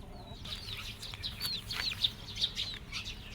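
Several chickens cluck and chirp in short, scattered calls over a quiet outdoor background, fairly close by.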